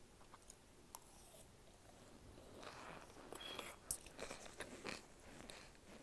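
Someone chews microwaved snacks close up, a soft, squeaky crunching in small bites and irregular bursts, fairly faint, with no talking.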